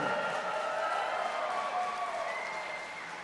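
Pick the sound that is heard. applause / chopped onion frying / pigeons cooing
applause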